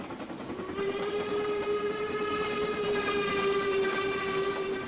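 A train passes in the Trainz railway simulator, a steady rumbling run under a long sustained whistle-like tone whose pitch bends slightly as it goes by, fairly loud and continuous throughout.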